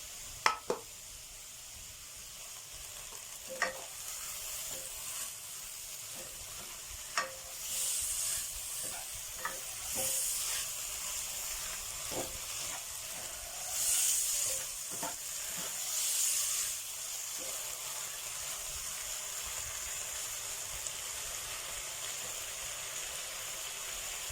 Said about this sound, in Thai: พอกระเทียมหอมแล้วผมก็จะใส่หมูสับลงไปก่อนนะครับ